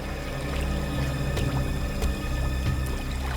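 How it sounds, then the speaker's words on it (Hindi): Water flowing steadily somewhere near a seashore, a continuous close wash with a few soft splashes and a faint low hum beneath it, no voices. "इस तरफ से पानी के बहने की आवाज आ रही है"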